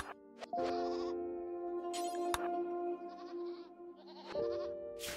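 Goats in the RimWorld video game bleat in a run of several loud, close, drawn-out wavering calls, one after another, with no talking over them.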